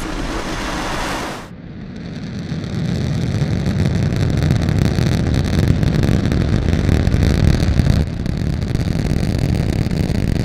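SpaceX Falcon 9 rocket engines igniting and lifting off, a sudden roaring onset after a brief lull, then a loud, sustained, crackling rumble heavy in the low end that continues without letup.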